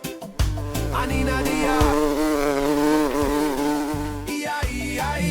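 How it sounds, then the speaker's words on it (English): Bees buzzing on a farm, a steady, fairly loud drone with a wavering pitch that holds for several seconds, close by, with brief breaks at the start and near the end and no voices. "Bees say."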